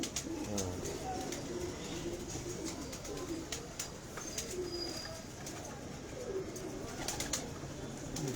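Pigeons coo softly and repeatedly in low, rolling calls against a quiet background with faint scattered clicks.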